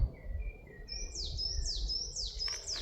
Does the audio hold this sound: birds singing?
yes